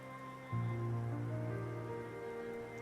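Steady rain from the video game Seven, a soft continuous patter with sustained musical tones over it, fairly faint.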